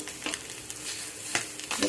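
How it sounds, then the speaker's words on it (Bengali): Small mourala fish fry in a pan with a soft, continuous sizzle, broken by a few light scraping stirs, fairly quiet and close. "ভালো করে ভেজে নেব আমার এখানে সব মাছগুলো ভাজা হয়ে গিয়েছে"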